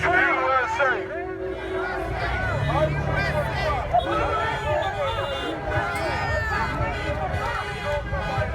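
A crowd at an outdoor Trump rally in Beverly Hills, California, with a dense, steady babble of voices, cheering and shouting throughout, close and loud, with people talking amid the din.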